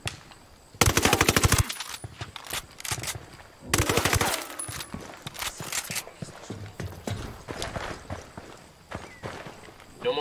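Rapid automatic gunfire in Ghost Recon Wildlands, with sharp close bursts of rattling shots, short pauses, then scattered quicker volleys and crackling fire continuing throughout.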